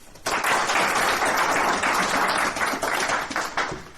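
A crowd claps loudly and steadily for a cup-bound team, the applause bursting in after a brief quiet start and holding dense and close for several seconds.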